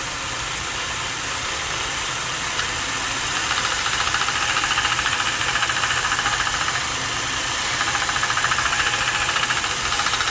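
A 1 inch belt sander runs with a fine 1000 grit belt to sharpen a steel broadhead, giving a steady, close mechanical whir. Light grinding contact swells it in a few stretches.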